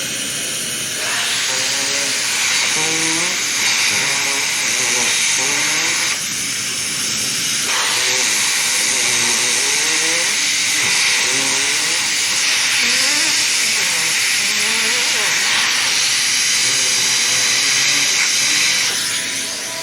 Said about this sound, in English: trying to make farting noises with my fingers when the air is coming out